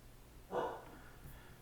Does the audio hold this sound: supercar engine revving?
no